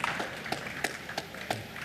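A crowd applauds after a long 34-shot table tennis rally at an indoor professional match, with a few sharp, close claps standing out over a steady wash of clapping.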